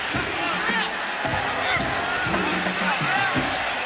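Crowd at a 1996 college football game between Texas and Virginia, a dense, steady roar of cheering and hubbub filling the stadium throughout, with a commentator's voice running over it.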